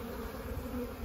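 Honeybees buzzing around an open hive during an inspection, a steady close hum that grows slightly agitated, with no talking.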